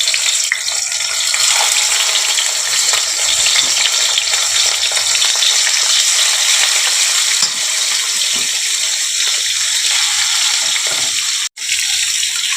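Marinated katla fish fries in hot oil, a loud and steady crackling sizzle that runs unbroken for about twelve seconds, with one brief dip near the end and no talk over it.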